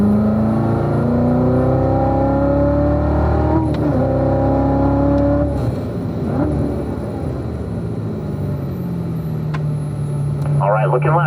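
On the Spring Mountain circuit, a race car engine revs up and drops through gear changes, rising and falling in pitch up close, while a voice talks over the engine.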